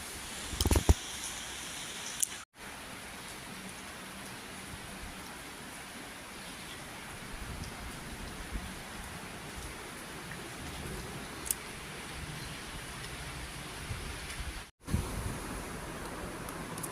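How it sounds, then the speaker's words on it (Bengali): Heavy rain pours steadily over a flooded village yard near a pond, a continuous dense hiss of falling water with no voices. "বৃষ্টি হইতেছে তামাম।"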